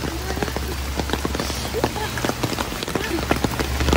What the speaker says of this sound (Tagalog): ba't kasi pumunta tayo umuulan?